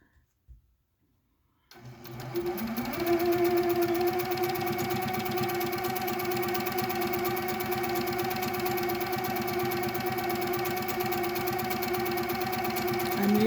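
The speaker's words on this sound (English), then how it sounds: "Now we're going to do a couple of blocking stitches" A sewing machine under manual control runs blocking stitches on a scrap quilt, starting after a brief near-silence with a few clicks, then a continuous close, even mechanical whir with rapid needle ticking.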